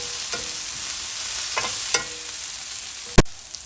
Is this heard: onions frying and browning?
yes